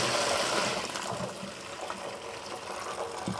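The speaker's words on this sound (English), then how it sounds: "let's just pour everything through our strainer here" Simmered rye berries and their cooking water are poured through a strainer, making a continuous close, splashing gush of liquid that runs steadily for a few seconds.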